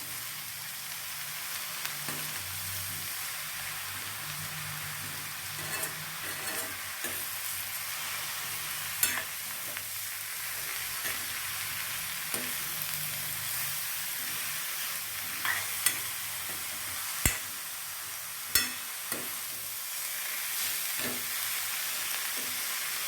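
Radish for chutney being stirred and sautéed in a pan: a continuous low sizzle runs throughout, punctuated by occasional sharp clicks and scrapes of the spatula, close and steady with no talking.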